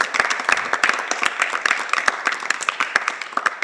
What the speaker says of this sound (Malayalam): എങ്കിൽ നല്ലൊരു കൈയടി കർത്താവിനൊന്ന് കൊടുത്തേ.